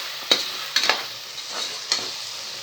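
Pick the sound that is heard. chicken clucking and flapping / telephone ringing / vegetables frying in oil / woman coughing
vegetables frying in oil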